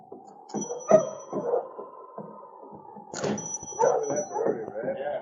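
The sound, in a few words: sled dog team barking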